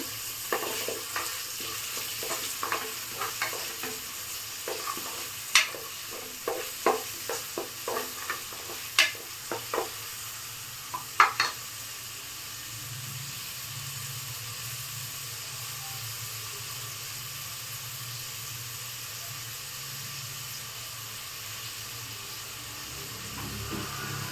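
Onions fry in a pan for vangi bath, a low sizzle running throughout, with a burst of sharp spoon clinks and scrapes around the middle before it settles back to a quiet, even frying hiss.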